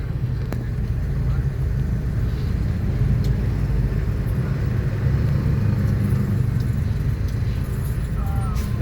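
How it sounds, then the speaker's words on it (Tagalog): Steady road traffic on the South Luzon Expressway, a continuous low rumble of vehicles heard from inside a moving passenger vehicle, with faint clinks over it and no clear talk. "Traffic."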